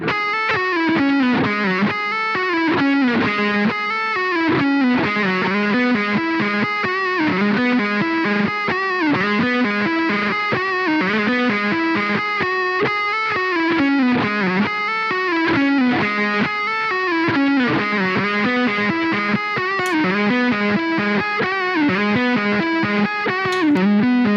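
Electric guitar driven through stacked Ibanez overdrive pedals, a Super Metal and a Tube Screamer, playing a steady, loud, saturated riff with dense distorted harmonics throughout, no talking.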